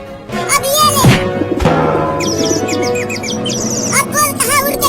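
Pigeon chirps and warbling calls ring out, mixed with a voice and busy background sounds, fairly loud and close.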